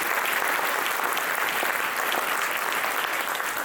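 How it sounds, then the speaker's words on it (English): Audience applause at an anniversary community event at UNC Asheville, dense steady clapping from a sizable crowd, sustained throughout. "We could give all of them a round of applause"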